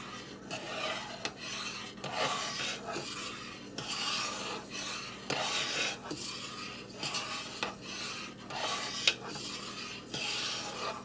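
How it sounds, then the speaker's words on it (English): Thick cream soap batter made with a 10% brine solution is stirred in a pot, giving repeated rhythmic rasping scrapes of the utensil against the sides, close and moderately quiet, with no talking. "That's why I do a lot of stirring."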